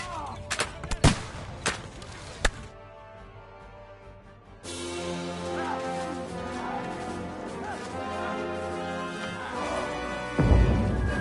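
Gunfire and artillery rip through a video game battle, with a few sharp, loud shots early on, then a dense, continuous roar of combat noise that swells toward a heavy blast at the end.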